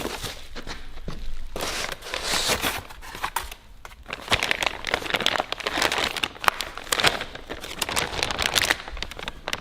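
Bubble wrap from a parcel holding big brakes and centre-lock parts for an R32 Turbo is handled and crinkled up close, with bursts of crackling and rustling that pause briefly and then resume, no voices.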